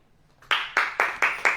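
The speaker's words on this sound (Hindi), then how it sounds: "ताली बजाओ" A congregation at a church sermon claps hands in unison, five sharp, evenly spaced claps ringing close and loud after a quiet start.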